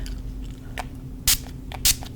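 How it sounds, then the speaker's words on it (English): Two short, sharp hisses of setting spray are sprayed onto a fan brush in close-up. The second comes about half a second after the first, over a faint background hum. "I take a little bit of my setting spray"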